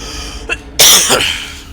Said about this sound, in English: That cough hurt.